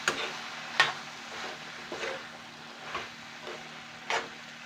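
Green beans bhaji being stirred in a pan with fresh coriander: a spatula scrapes and taps the pan every second or so, close and moderately loud, over a faint steady hum, with no talking.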